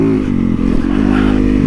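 A Yamaha YZ450FX supermoto motorcycle engine revs loud and close, its rough single-cylinder tone steady and throaty throughout with a slight clatter.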